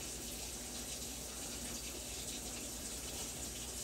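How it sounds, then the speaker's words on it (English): Tap water pours steadily into a cooking pot as a pint of water is added to simmering pantry food, a continuous close gushing rush with no pauses. "I'm going to add back to this 1 pint of just water, and we're going to let them cook and simmer."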